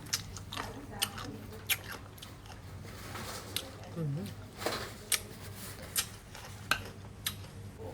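Someone chews papaya salad (som tam) close to the microphone, with soft crunchy bites and regular clicks amid quiet background noise and a brief murmured sound.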